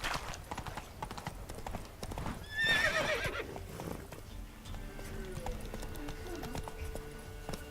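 Roach, the horse in The Witcher 3, gallops in rapid, steady hoofbeats, with one loud whinny partway through and game sounds underneath.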